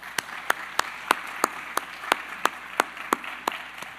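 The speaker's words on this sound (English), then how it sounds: "let's just give them a short round of applause" Slow, evenly spaced single claps ring out about three per second, crisp and distinct, over a faint murmur of a larger audience's light applause at an evening panel event.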